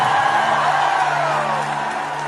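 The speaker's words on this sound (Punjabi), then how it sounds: "ਉਹਨਾਂ ਕੁੜੀਆਂ ਲਈ ਜ਼ੋਰਦਾਰ ਤਾਲੀ ਹੋਣੀ ਚਾਹੀਦੀ ਹੈ" A crowd at a concert show whoops, cheers and applauds in a steady, dense wash of noise, loud and continuous without a break.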